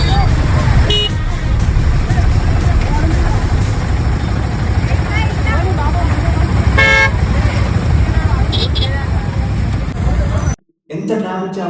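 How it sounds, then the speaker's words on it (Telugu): Vehicles stuck in a roadside traffic jam fill the air with a loud, steady engine rumble and crowd babble, with repeated car horn toots scattered throughout, ending in a sudden brief cutout. "ఎంత ట్రాఫిక్ జామ్ అయిందో"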